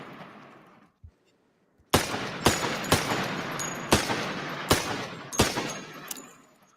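Video game gunfire in a target-shooting weapon trial, with one small pop, then six loud, heavy shots spaced roughly half a second to a second apart, each ringing out with a decaying tail and no talk.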